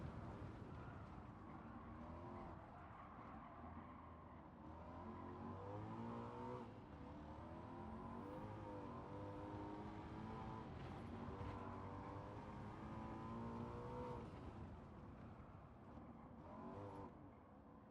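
Race car engine in Gran Turismo 7 on PS5 revs continuously, its pitch climbing and falling through gear changes for eighteen seconds, a dense, steady roar heard from close up and at moderate level.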